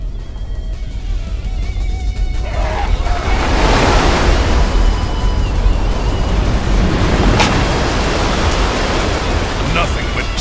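Rushing water in the video game Dynasty Warriors 6 during the Battle of Xia Pi: a loud, broad roar like surging floodwater that swells after a couple of seconds and then holds steady and continuous.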